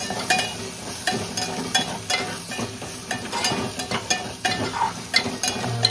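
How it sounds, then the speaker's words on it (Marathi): Tomatoes frying in a pan alongside a chicken liver fry with Malvani masala, a busy crackling sizzle broken by repeated scraping and stirring clatter, close and fairly loud throughout. "टोमॅटो घातल्यानंतर टोमॅटोला पण मस्त फ्राय करून घ्यायचं."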